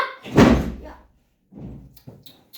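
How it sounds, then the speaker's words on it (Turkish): A door is shut with one loud, close thud near the start, followed by quieter knocks and handling sounds. "Kapıyı kapat."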